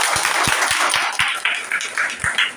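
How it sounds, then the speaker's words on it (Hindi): Applause from a gathered audience welcoming an advocate at a lawyers' celebration in Ghatampur, with loud, uneven hand claps that thin out into scattered claps, heard without speech. "जोरदार से तालियों के साथ स्वागत"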